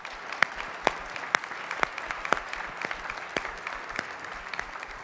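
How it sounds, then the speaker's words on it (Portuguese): Sparse applause in a church service, a few sharp distinct claps standing out at a steady rhythm over a low murmuring room tone, moderately close, no speech over it. "Deixa que eu mesmo aplaudo."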